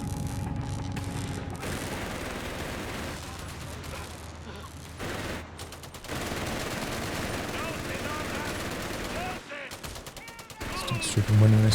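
Dense battle gunfire, machine-gun bursts and heavy bazooka impacts fill a Company of Heroes 3 match in a continuous loud wash, with a commentator talking over it.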